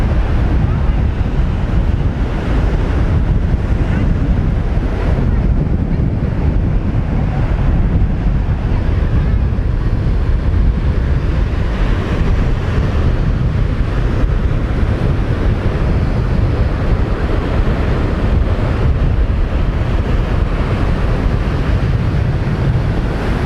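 Strong wind and breaking surf sweep across Nai Harn Beach in Phuket on a windy kite-surfing day. It is a loud, continuous roar of waves with heavy wind buffeting on the microphone and no distinct breaks.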